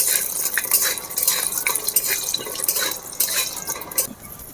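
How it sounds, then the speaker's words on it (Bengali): Peanuts sizzling in hot oil for frying before going into jackfruit chops, with a spoon scraping and stirring steadily through a continuous crackling hiss. "চপে দেওয়ার জন্য চিনেবাদামটা আগে ভেজে নেব"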